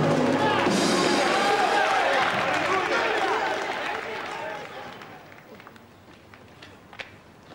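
Studio audience applause at a British TV comedy show, a dense burst of clapping and cheering that starts loud and gradually thins out, fading to scattered claps by the end.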